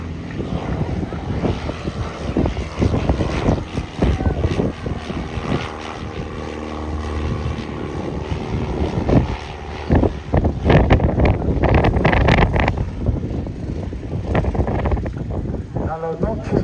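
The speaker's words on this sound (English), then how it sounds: "Little cub getting airborne." A Piper Cub light propeller plane taking off at Headcorn airshow: a loud, droning piston engine and propeller buzz that holds throughout, with wind noise on the microphone and a voice talking over it.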